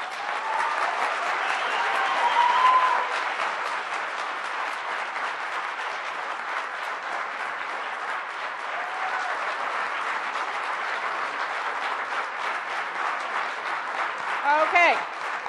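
A town hall audience at an educational meeting claps and applauds continuously for about fifteen seconds, a dense, steady roar of many hands from a crowded room, with a few voices and a brief tone mixed in.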